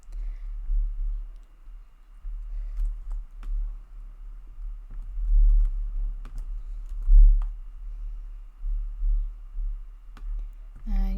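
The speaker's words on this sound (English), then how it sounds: "we are going to type in 3 main services that we can provide" Light, irregular clicks of typing on a computer keyboard, soft and fairly close, scattered in short bursts over a low background rumble.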